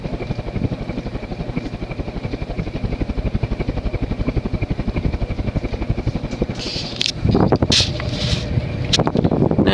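An Emerson Longnose 56-inch antique ceiling fan runs on medium at about 190 RPM with a steady, rhythmic whooshing hum, close and fairly loud, turning heavier and rougher near the end.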